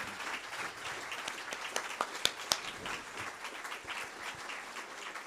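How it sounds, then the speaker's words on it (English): Audience applause after a poetry reading at the International Poetry Forum, steady dense clapping throughout with a few sharp louder claps standing out, heard from within the room. "Please join me in thank you all. A round of applause."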